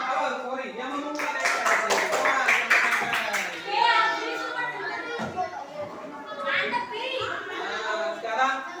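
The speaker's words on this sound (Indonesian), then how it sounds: "Ya, tepuk tangan untuk Mas Haru." Children in a classroom clap briefly in a quick burst of claps early on, then chatter and young voices take over while the teacher talks.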